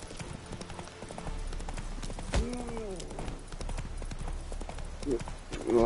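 A horse in the video game Witcher 3 clip-clops along at a quick, rhythmic pace over constant background game sound, with a short whinny partway through and a voice speaking near the end.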